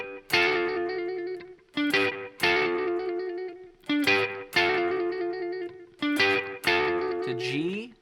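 Electric blues guitar plays the first eight bars of Otis Rush's Easy Go, a driving sequence of distorted chord stabs with short pauses between them and a bending slide at the end.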